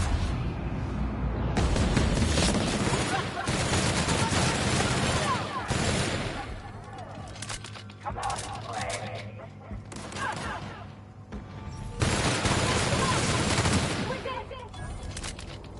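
Dense bursts of gunfire from The Outer Worlds video game fill the stretch, loud rapid volleys with short pauses, under occasional talk.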